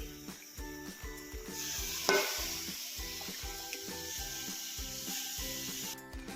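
Beef and masala sizzling in ghee while being stirred, with a steady hiss and a rhythmic pattern of scraping strokes from the spoon against the pan, close and continuous with no talk.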